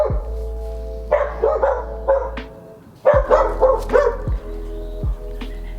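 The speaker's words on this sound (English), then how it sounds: "Wesley, there are dogs across the way who bark, and then our dogs bark at them" Several dogs bark in bursts across the way in a spring garden, answered by closer dogs, with sharp yapping barks repeating irregularly over a steady low hum.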